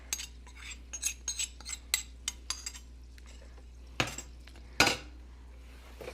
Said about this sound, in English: So then we can add our pongal tadka mixture into the rice.